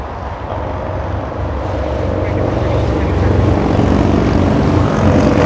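An airliner departs Los Angeles International Airport, its engine roar building steadily and staying loud and broadband throughout, with a voice talking over it.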